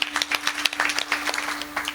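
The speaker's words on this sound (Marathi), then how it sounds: "दादासाठी एकदा जोरदार टाळी वाजवा." An audience at a kirtan claps for a mridang player, giving a short burst of dense, steady applause throughout.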